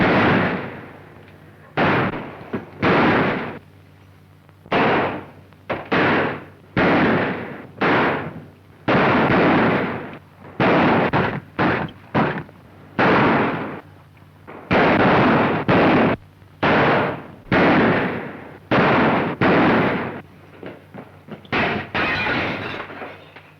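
Gunfire in a 1936 western rings out as a long run of loud, sharp shots in ragged bursts, some singles and some quick clusters, each leaving a short echoing tail.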